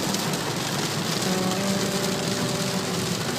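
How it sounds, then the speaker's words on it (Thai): Rain falls steadily on a vehicle driving back from Mae Sai in northern Thailand, a dense, even hiss throughout with a low road and engine rumble underneath, close and loud, with no voices. "ฝนตก"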